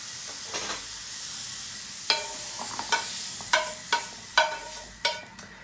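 Mushrooms frying in a pan, a soft steady sizzle broken by several sharp clicks and scrapes of a utensil turning them, close and quiet, no talk.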